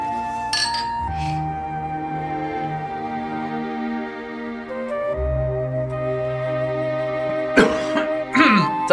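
Glasses of traditional liquor clink together in a toast, with two sharp, close ringing clinks near the end. Voices and a cough sound earlier over a low background tone.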